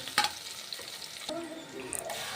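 Ginger garlic paste sizzles and fries in a hot pan while being stirred, with a scrape of a spoon and soft crackling, close by.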